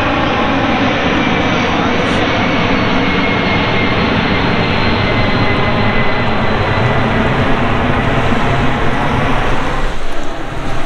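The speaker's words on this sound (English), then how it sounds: "right over there is RAF Lossiemouth, where the Eurofighters are, and also them big bad boys" Eurofighter military jets near RAF Lossiemouth give a loud, continuous engine roar that holds steady for around ten seconds before easing slightly at the very end, with no voices over it.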